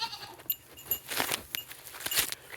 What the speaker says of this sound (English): still got 4 goats in here?